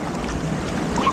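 Waves in the wave pool at Disney's Blizzard Beach water park make a brief, steady wash of surging water, fairly loud and close, with no talk over it.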